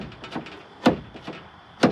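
An old Mopar door on a 1957 Plymouth Fury knocks and clunks: two sharp, fairly loud thuds about a second apart, with softer rattles and taps in between, close by and with no talking.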